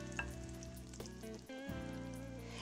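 Pecan-crusted chicken sears in oil in a non-stick skillet, giving a soft, steady sizzle against a quiet tonal background.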